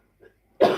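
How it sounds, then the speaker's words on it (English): A single sharp cough bursts out near the end, close and loud, after a faint throaty sound and otherwise quiet surroundings. "Got a bit of a cough there."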